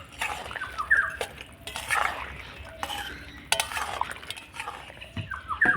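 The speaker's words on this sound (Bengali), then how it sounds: "আর এই গরম সেরার মধ্যে আমি চুষি পিঠাগুলোকে দিয়ে দেব দিয়ে একটুখানি নাড়াচাড়া করে নেবো" Chushi pitha being stirred through hot sugar syrup in a pan, with repeated scraping and clinking of the utensil against the pan and a soft, wet bubbling underneath, fairly close and without talk.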